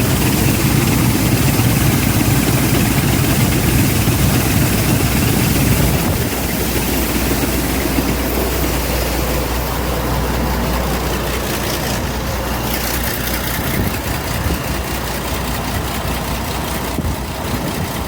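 On a sunflower harvest, an engine idles in a steady, loud, continuous rumble close by, with the tone shifting slightly partway through and no talk over it.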